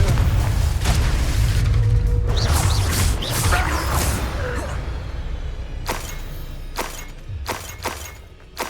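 The Confringo fire spell from Hogwarts Legacy bursts into a heavy, booming explosion with crashing and shattering debris, followed by several sharp, separate impacts as it fades.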